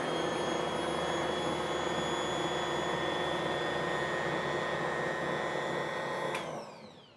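A countertop mixer runs continuously on whole wheat bread dough with yeast, a loud, even motor whine close by for several seconds before spinning down and stopping.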